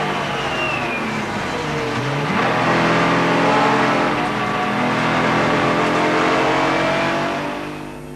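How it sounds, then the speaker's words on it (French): Porsche 996 GT3 Cup race cars launch at the start of the Spa 12 Hours, engines revving loud and close as the pack accelerates and sweeps past, with rising and falling engine tones over about eight seconds. "que dire alors du départ signé François Verbist avec la Porsche 996 GT3 Cup Force Motorsport"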